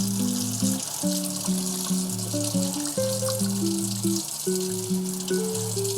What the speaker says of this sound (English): Now that the pasta's done, guys, strain the water.